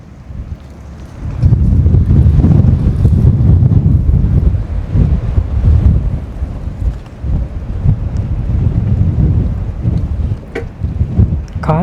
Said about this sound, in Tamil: காற்று